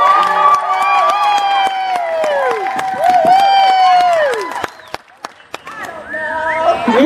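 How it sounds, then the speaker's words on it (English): A crowd of children in an audience at the grand opening of a Friesian horse farm cheers and shouts loudly on cue, a sustained wave of high voices that briefly drops away before rising again near the end. "So when I count to 3, I need to hear everybody's cheer, okay?"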